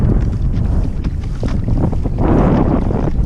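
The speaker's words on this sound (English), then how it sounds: "This wind is kicking." Strong gusty wind buffets the microphone on a small lake while paddling a Hobie Outback kayak on a cold April day, a loud continuous rumbling roar with surging gusts and faint water noise.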